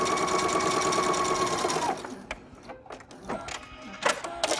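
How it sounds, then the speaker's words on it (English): A sewing machine stitching down fabric, its steady rapid whir running loud for about two seconds, then stopping and giving way to intermittent softer clicks and handling noises. "now I want to turn it around and sew back down the other side"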